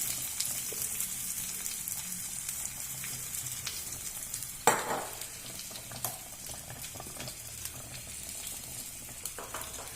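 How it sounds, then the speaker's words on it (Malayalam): Curry leaves and ginger temper in hot oil for kappa biriyani, producing a continuous soft sizzle with light crackles and one sharper utensil knock near the middle, with no talking. "കുറച്ച് കറിവേപ്പില കുറച്ച് ഇഞ്ചിയും കൂടിയിട്ട് താളിച്ച് വയ്ക്കാം"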